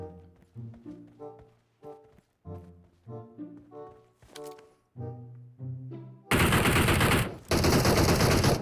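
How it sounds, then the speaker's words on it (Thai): Gunfire in the mobile battle royale game PUBG Mobile, a string of sharp single shots with ringing tails spaced about half a second apart, followed by two dense bursts of rapid automatic fire. "ยิงอีกแล้ว"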